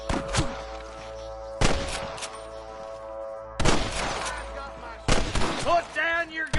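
Several loud, sharp gunshot bursts ring out in a Western shootout in the video game Red Dead Redemption, each followed by echoing tails, with shouting voices in between.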